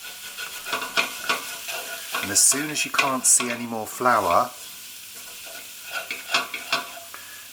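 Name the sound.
stirring flour into frying mushroom and pepper vegetables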